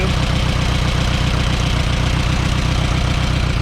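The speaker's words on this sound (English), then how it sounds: "And listen for a change in the engine." An Allis Chalmers or International tractor engine with one weak cylinder runs steadily at idle, giving a loud, continuous low chugging with an even, throbbing rhythm close to the microphone and no talk over it.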